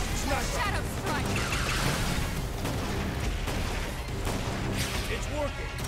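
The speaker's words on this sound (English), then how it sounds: "Follow with some gunfire." Gunfire and heavy blasts from combat in the video game Xenoblade Chronicles X fill a dense, continuous battle soundscape, with rapid shots layered over game music and voices talking throughout.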